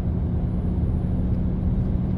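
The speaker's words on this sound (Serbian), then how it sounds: "Moram ja sad malo zagasat ovaj kamion" A truck engine runs close by with a steady, heavy low rumble that holds an even level throughout, with no clear rise or fall in revs.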